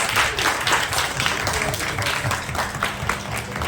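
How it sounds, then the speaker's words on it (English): Applause from an audience at a school staff appreciation awards event, a dense, steady wash of clapping that carries on evenly throughout at fairly close range. "So huge round of applause for all of you, Team SRFS"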